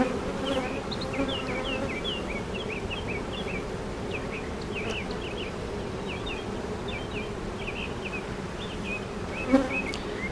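A honeybee swarm in Maysville, North Carolina, hums with a dense, continuous buzz of many bees close by, joined by scattered brief high chirps.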